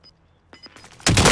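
Video game gunfire, a few sharp pops followed by a sudden loud, dense burst of shooting close by.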